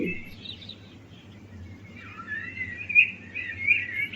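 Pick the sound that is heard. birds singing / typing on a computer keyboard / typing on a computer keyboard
birds singing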